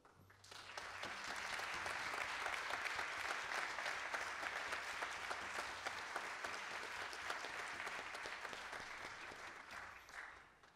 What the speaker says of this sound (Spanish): Un aplauso para don Mario Soto.